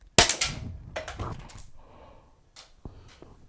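An Umarex HDX68 PepperBall launcher fires a single sharp, loud test shot, followed by a clattering rattle and a couple of fainter knocks and clicks.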